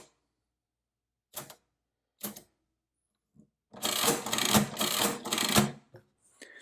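A Victor Model 110 adding machine has its crank pulled hard: a couple of separate mechanical clunks, then a dense burst of rapid whirring and rattling as the mechanism cycles, close and loud.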